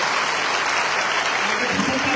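An audience at an inspiring talk bursts into dense, loud, continuous applause, a steady wash of many hands clapping with faint voices mixed in toward the end.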